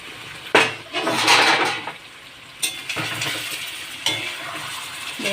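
A metal pot lid clanks and scrapes as it is lifted off a simmering pot of pointed gourd in yogurt gravy, with a few sharp clatters spaced across a few seconds over a soft cooking hiss.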